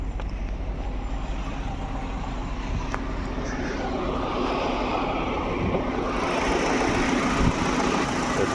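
A 2.0 TFSI engine in a VW Passat B6 with 208,000 km idles steadily, a continuous low rumble with no breaks and no talk over it.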